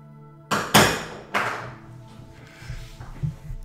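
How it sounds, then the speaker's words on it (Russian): Hammer blows striking a table, two sharp loud knocks close together, then a third, with a ringing decay and some faint softer knocks afterward. "Сейчас будет удар молотком"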